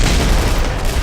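Dense, continuous rumble of explosions and gunfire in the online shooter game Red Crucible Firestorm, loud and booming throughout with no pauses.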